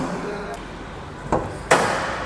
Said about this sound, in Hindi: पकड़ने से ही बोनट हो चाहे दरवाज़ा हो, जो साउंड है ना वो काफ़ी प्रीमियम है